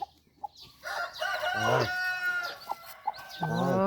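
Baby chicks cheep close by in a run of loud, wavering peeps and chirps that rise and fall over a steady background.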